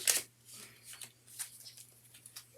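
Tarot cards being shuffled and drawn by hand: a sharp riffle burst at the start, then soft, quick papery slides and taps, close and quiet.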